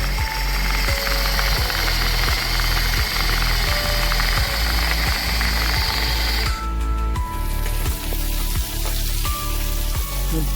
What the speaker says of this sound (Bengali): এই যে আমাদের ছোট্ট মিক্সি, এখানে আমরা সব দিয়ে দিলাম।